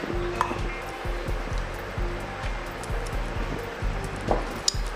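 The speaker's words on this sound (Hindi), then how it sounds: "इसको हम मिक्सी जार में डाल के" A kitchen mixer grinder (mixie jar) grinds soaked poha, making a motor whine that pulses in rapid, regular bursts as the blades churn the mixture. The sound is moderately loud and close, with no talking.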